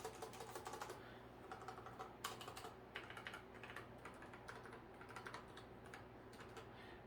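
Fingers type on a Delux KS100 keyboard with mechanical-style switches, a quiet, steady patter of soft clicks with a few sharper taps mixed in, all close up and muted rather than loud.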